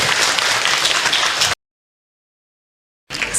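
Applause from a religious talk audience, a dense burst of clapping lasting about a second and a half before cutting to silence, then resuming briefly at the end.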